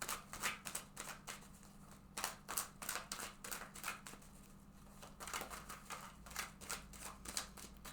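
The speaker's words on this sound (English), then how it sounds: "So right now I'm going to shuffle this deck several times." Rapid riffling of a deck of tarot cards, repeated crisp flutters in quick bursts, close and quiet with no talking.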